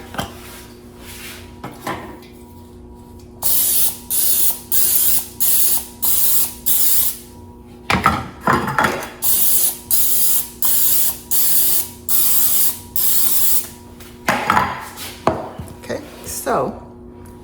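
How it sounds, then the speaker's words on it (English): Cooking spray hisses onto baking pans for dinner rolls in a home kitchen, about a dozen short even bursts in quick rhythmic succession, broken by a few clanks of the pans being handled. "Spray the pans."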